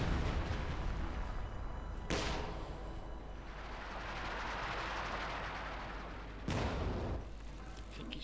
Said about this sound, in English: Trying to bombard the crew repairing it.